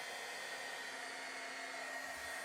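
A hair dryer blowing steadily to dry craft paint, a continuous close whooshing roar with no breaks, fairly quiet overall and without voices.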